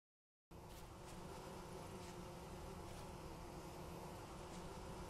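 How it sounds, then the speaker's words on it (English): Bees swarm around a wild beehive in Vintage Story, a steady, faint, dense buzzing drone that begins abruptly after a moment of silence and continues without a break, with no voices. "I don't know if you can hear that in the background, but I hear bees"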